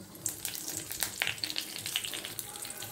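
A tempering with green chillies frying in a pan gives a close, fairly quiet crackling sizzle with sharp pops and short clinks, and no one speaking.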